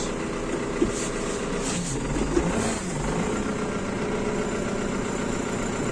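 A New Holland TD90 tractor engine idles steadily and close with a low chugging rumble, faint thumps and rattles scattered through it.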